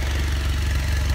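BMW F800GS motorcycle engine idling after a cold start, a steady, even low throb held close and loud with no talk.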